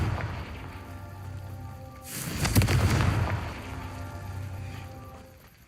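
A Confringo fire spell explodes in the Hogwarts Legacy video game, a sudden loud blast midway that swells into a rumbling, crackling burst before fading back under a low game ambience.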